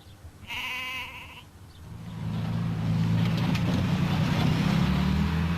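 A sheep from a flock of wethers and ewes brought down from Plinlimmon gives one clear, drawn-out bleat, then a loud, rising vehicle rumble swells in and covers the rest.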